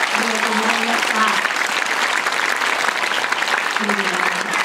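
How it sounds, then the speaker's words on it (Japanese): Steady applause from a theatre audience after an Okon joruri puppet performance, continuous crackling clapping filling the room, with faint voices briefly audible beneath it. "ではアノニムの皆さんに今一度拍手をお願いいたします。"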